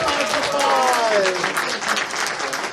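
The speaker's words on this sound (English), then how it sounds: "Give him a round of applause." Audience applause at a furry convention comedy show, a steady wash of clapping lasting about three seconds with cheering voices and a rising whoop mixed in.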